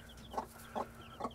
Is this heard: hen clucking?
yes